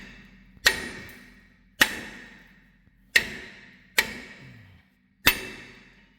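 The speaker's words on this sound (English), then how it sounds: "What you want to do now is you want to give the rotor a good whack like that." Five sharp metallic whacks strike the brake rotor on a 2004 GMC Envoy front end, evenly spaced about a second apart, each one ringing briefly before fading, close and loud with no talking.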